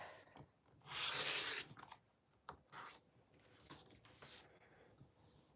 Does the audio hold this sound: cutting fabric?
yes